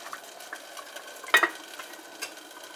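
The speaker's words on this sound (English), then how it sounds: "Mixing everything together." A spoon stirs goat curry in a cooking pot, soft scraping and shuffling strokes with one sharper clink partway through, close and quiet with no talking.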